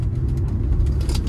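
A used car's engine runs during a test drive at a dealer-only auction of cheap cars, a steady low rumble that stays close and even from start to finish with no one talking.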